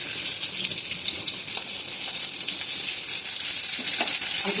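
Chopped onions, two large ones, crackle and hiss in hot oil in a wok, a dense, even sizzle held close and loud for the whole stretch, with faint stirring scrapes underneath.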